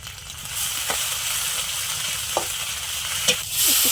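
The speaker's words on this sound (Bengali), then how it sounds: "আদা রসুন বাটাটা দিলাম" Ginger garlic paste goes into hot oil in a home kitchen and sizzles with a loud, steady, close hiss, broken now and then by faint clicks and scrapes. No one talks.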